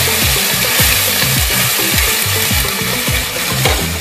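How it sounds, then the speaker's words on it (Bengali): Onion paste fries in hot oil in a pan for a chicken korma, with the whole cumin tempering already in. A steady, close sizzle runs throughout, broken by repeated scraping stirs. "পেঁয়াজ অল্প ভাজা হয়েছে।"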